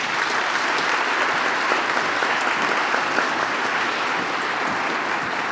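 An outdoor crowd at a Boston 250 launch event on the Henry Knox Trail in Roxbury claps steadily, a dense, even round of applause with no talking over it.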